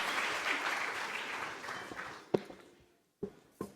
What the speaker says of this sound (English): with a massive round of applause, welcome to the stage, Jacqueline Caglia.